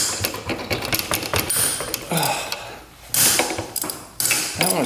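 A ratchet clicks rapidly in bursts while bolts are removed from an old motorcycle that sat unused for 27 years, close and busy with metallic mechanical rattling.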